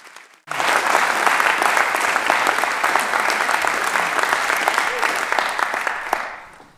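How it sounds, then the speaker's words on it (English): An audience at the Storioni festival 2023 applauds a saxophone quartet: dense, loud clapping starts abruptly and holds steady for about six seconds before fading out. "A nice round of applause for Maat Saxophone Quartet."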